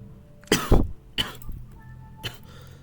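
A person coughs three times in sharp, separate bursts, the first pair close together and the last softer, with quiet pauses between.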